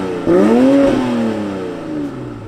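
A 2020 Toyota Supra with a catless downpipe, in non-sport mode, gives a single short rev that rises sharply, peaks and then drops back to a steady idle, fairly close and loud.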